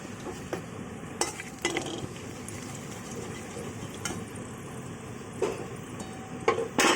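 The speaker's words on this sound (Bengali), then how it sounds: "কড়াই দিয়ে দিলাম গোটা গরম মশলাগুলো। এগুলো একটু গন্ধ বেরোবে আর হালকা ভাজা ভাজা হবে।" Whole garam masala spices fry in oil in a wok over low gas, giving a steady soft sizzle with occasional sharper crackles and stirring clatter, close and with no voices.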